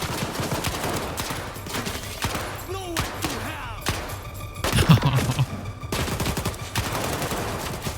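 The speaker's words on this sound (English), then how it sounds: "Those gunfights look good." Rapid bursts of gunfire and automatic weapon fire rattle through a gunfight in the S.T.A.L.K.E.R. video game, dense and continuous with a few heavier thumps, while people talk faintly beneath.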